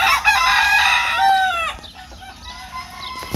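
A rooster at a fighting-cock farm crows loudly and close for about a second and a half, followed by quieter background farm noise.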